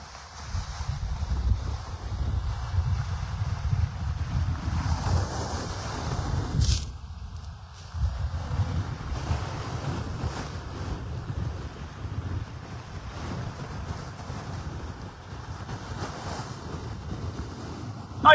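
Strong winter wind and waves from Lake Erie batter a pier and break wall at Dunkirk in a windstorm, a loud steady roar with heavy low wind buffeting the microphone and surf surging and breaking throughout, no voices.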